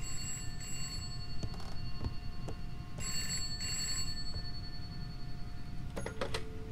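Repeated bell rings of a telephone in the video game Contempt, sounding in two short bursts over a constant low game drone, followed by a few sharp clicks near the end, with no voices.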